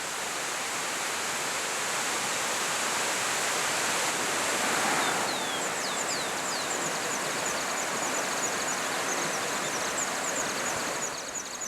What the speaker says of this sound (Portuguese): Margeando o rio, chegamos a uma sequência de belas quedas d'água.